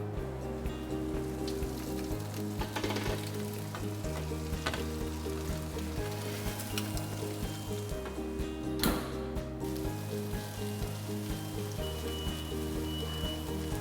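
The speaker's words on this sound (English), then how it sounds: "Can you hear that sizzle?" Shrimp and steak sizzle in a Fagor convection oven, soft steady sizzling and crackling, faint and continuous, over a low hum.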